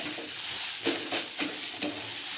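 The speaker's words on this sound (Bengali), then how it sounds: "আলুটা দিয়েও একটু ভালো করে ভাজতে হবে যাতে শুকনো শুকনো হয়" Grated potato fries with boiled cabbage in a pan, giving a soft, steady sizzle with three or four rhythmic spatula strokes in quick succession, close and without talk.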